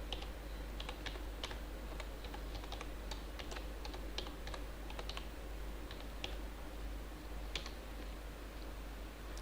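Someone types C code on a computer keyboard, producing quiet, irregular clusters of light key clicks with short pauses between bursts over a low steady hum.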